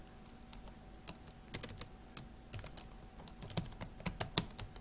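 Quick, irregular keystrokes on a computer keyboard as an Adobe ID email address is typed in, close and clear, with short clusters of clicks and small pauses and no voices.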